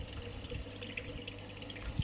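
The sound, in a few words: cooling water running through the lab system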